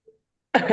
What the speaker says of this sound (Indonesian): Kenapa sambil batuk gitu loh?